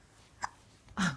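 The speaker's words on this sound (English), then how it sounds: "Do you have the hiccups?" A baby hiccups twice, close and quiet: a small sharp catch of breath, then a louder one a moment later, with no talk.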